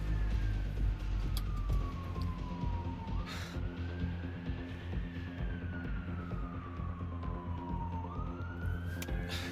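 Police sirens wailing in a rising and falling sweep, twice over several seconds, moderately distant and steady against a dense low rumble of traffic or game background, with no talk.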